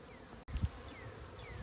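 Honeybees from a nucleus colony being installed into a hive hum and buzz steadily at close range, with a brief dropout and a soft knock partway through.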